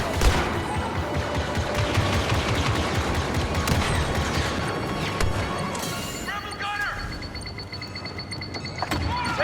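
Turret gunfire in a Star Wars Battlefront II battle on Tatooine: dense, continuous rapid blaster fire with explosions and game effects, loud throughout, with voices heard over the din.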